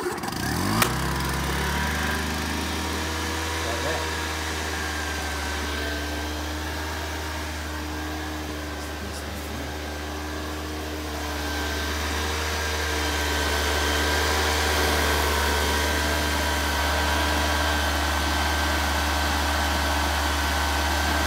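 Honda EX350 generator engine running at a steady, even drone, with a brief pull-start burst at the beginning and a slight rise in level partway through, loud and close with no talk.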